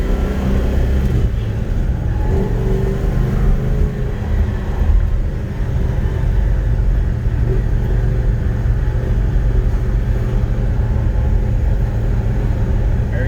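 A 1969 Super Bee muscle car engine runs hard on a cold-day road test, a loud, heavy low rumble that drones continuously throughout.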